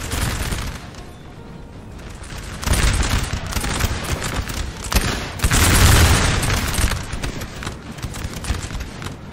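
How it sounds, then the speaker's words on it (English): Musket volleys crackle across a Napoleon: Total War battlefield recreating Borodino, dense rolling fusillades swelling in bursts amid booming cannon, loud and continuous with no talking. "And they're exchanging some regular volleys."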